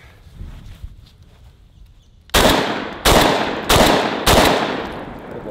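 A Versa Max shotgun fires four loud, close shots at steel targets, each about half a second apart, with a sharp crack and a ringing decay after each one.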